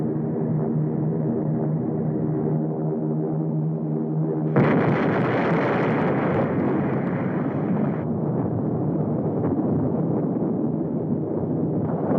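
Film bomb explosions from a 1952 black-and-white feature: a continuous heavy rumbling roar that surges abruptly louder partway through, dense and sustained like a string of blasts merging together.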